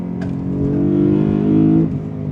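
A BMW E92 M3's V8 engine revs loud and close from inside the car while driving, a rich droning note climbing and holding high before dropping off abruptly.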